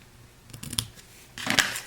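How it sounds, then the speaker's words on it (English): Scissors trim the edges of a paper card for an autumn tea bag holder craft, giving a quick snip and then a longer crisp cut, close and clear with no talk. "Gonna trim our edges"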